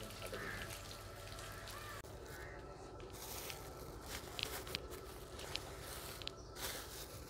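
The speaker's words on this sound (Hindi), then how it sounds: "तो अभी जो है फिर नहला रहे हैं ठंडे पानी के साथ।" Cold water splashes and trickles steadily over a buffalo being bathed in a village, a soft, continuous pour with occasional drips and faint footsteps in the background.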